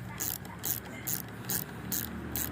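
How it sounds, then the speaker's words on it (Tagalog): A 10mm wrench ratchets in a repeated rhythmic clicking while loosening a motorcycle's front brake lever, quiet and close, with regular bursts of clicks about every half second. "So matanggalin natin yung brake lever gamit ng 10mm wrench."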